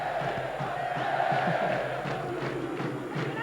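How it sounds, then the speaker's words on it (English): Football crowd at a Chester City home match against Dagenham & Redbridge in the Nationwide Conference, a steady, continuous roar of cheering and shouting that swells slightly mid-way, with no clear voices standing out. "Every touch by a Chester shirt cheered now."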